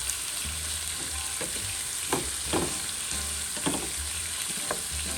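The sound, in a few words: linguiça sausage sautéing in pan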